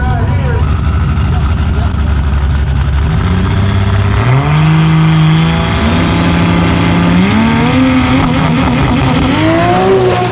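A Nissan 240 with a 2JZ engine accelerates hard in a street race, a loud continuous engine roar climbing through several gear shifts as pitch rises, drops and rises again, with a crowd and voices mixed in underneath.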